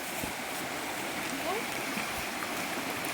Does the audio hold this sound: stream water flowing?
yes